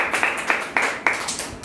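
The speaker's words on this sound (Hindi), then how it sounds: "ज़ोरदार तालियों के साथ इनका इस्तकबाल कीजिए" Audience clapping to welcome guests at a school interview activity, a light scattering of hands with a few sharper claps standing out, fairly close and without voices.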